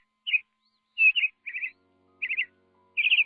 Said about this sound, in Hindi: मिट्ठू फिर से गाने लगा